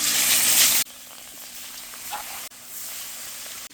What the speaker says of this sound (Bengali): তেল গরম হয়ে গেছে, এখন আমি মাছগুলো দিয়ে দিচ্ছি কড়াইতে।